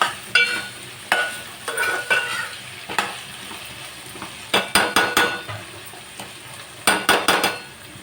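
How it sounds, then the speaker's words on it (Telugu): Drumsticks (moringa pods) frying in oil in a pan, with a soft steady sizzle under repeated sharp scrapes and clinks of a spoon stirring against the metal pan, close and alone. "ఈ ములక్కాడలు ఇలాగా ఆయిల్లో ఒక 5 నిమిషాలు అలా మగ్గనిద్దాం"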